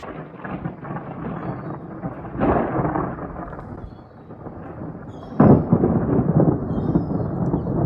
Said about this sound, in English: there's a bit of a storm outside